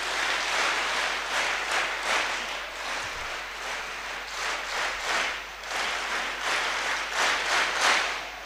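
Large crowd of thousands of devotees applauding at an ashram healing gathering, a sustained, even wash of clapping that holds steady from start to finish with no talk.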